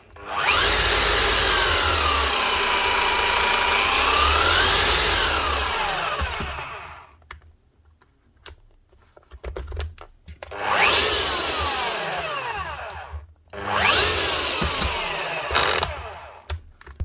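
A Makita HR3000C SDS Plus hammer drill under repair runs loud and close in rotation mode, three bursts of motor whine with speed ramps, separated by short silences.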